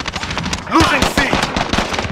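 Rapid automatic gunfire rattles in bursts during a Call of Duty Modern Warfare match, loud and close, with sharp repeated cracks mixed with game voice callouts.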